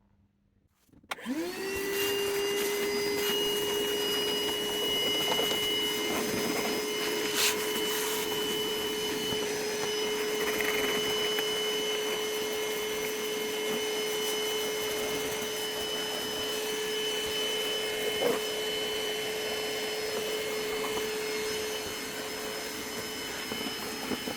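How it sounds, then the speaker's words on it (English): A hoover starts up and runs steadily for over twenty seconds while cleaning out a Powertran Cortex computer, a loud constant whine with occasional brief bumps and scrapes and no speech. "I'm going to clean it off a little bit and get the hoover out"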